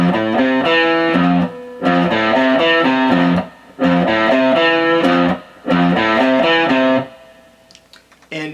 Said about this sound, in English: the verse riff sounds like this.